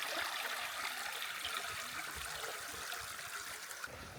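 A mountain stream trickles past a campsite near the Shizikou highland meadow in Chenzhou. A soft, continuous watery hiss flows at a low level, fairly distant and alone, with no voices.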